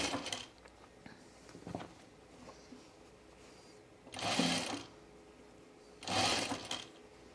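A sewing machine stitches a dress in two short bursts of about a second each, with quieter handling noise and faint rustling between runs.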